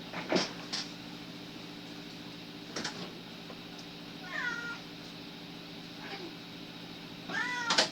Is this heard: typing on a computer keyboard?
no